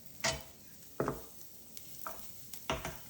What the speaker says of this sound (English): Looks like sizzling.